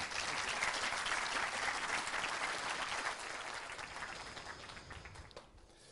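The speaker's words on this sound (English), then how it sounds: "A thunderous round of applause for our team." An audience at a demo day event gives a team a thunderous round of applause, dense steady clapping from a large crowd that tapers off toward the end.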